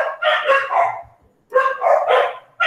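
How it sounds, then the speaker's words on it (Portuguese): Agitated dogs bark in two loud, close bursts of rapid, overlapping barks, separated by a short pause. "Meus cachorros estão agitados hoje."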